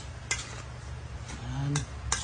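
Food being stirred and mixed in a pot, with a few sharp utensil clinks against the side and a soft scraping underneath, quiet and close.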